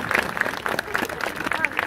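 A burst of applause fills the space at a football warm-up, steady clapping from a gathered crowd, with some chatter mixed in.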